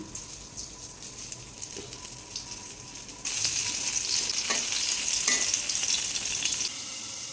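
Eggplant slices fry in hot oil in a pan, a steady crackling sizzle that jumps louder midway and then eases slightly, with faint clinks of a utensil and no talk.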